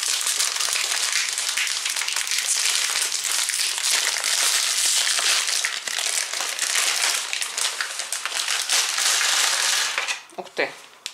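A multigrain fitness cookie package is torn and opened, filling the space with loud, continuous plastic crinkling and crackling close up, ending in a few sharper rustles and a brief voice.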